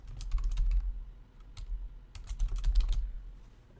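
Short bursts of keystrokes on a computer keyboard, a quick cluster of clicky taps, a pause, then a second denser run of typing, close and clear with no voices.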